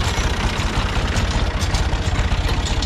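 A small Ford tractor engine idles steadily up close, a low, even throbbing rumble with no voices over it.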